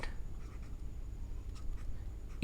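A pen scratches across paper while an English sentence is written out, a quiet, steady scribbling over a faint background hum, ending in a brief louder knock.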